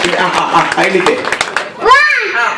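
A quick run of sharp hand claps mixed with children's chatter and voices, followed by someone speaking alone.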